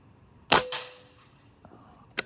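A Benjamin Discovery .22 air rifle, Huma regulated, fires a single sharp crack, followed by a fainter second snap and a short ringing tail, with a soft click later and another sharp tick at the very end.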